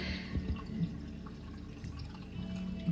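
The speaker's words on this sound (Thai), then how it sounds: "ได้ยินเสียงน้ำไหลปะ" Water from a home aquarium faintly trickles and drips in a quiet indoor room, soft scattered droplets over a low steady hum.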